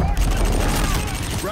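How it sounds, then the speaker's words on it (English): Gunfire in Call of Duty: Infinite Warfare, a loud, dense burst of rapid shots and impacts crackling together over a low rumble, continuous for the whole short stretch. "They're shooting civilians."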